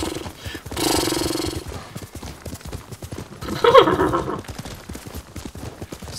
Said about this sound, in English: Call my horsey over and we're gonna double time it.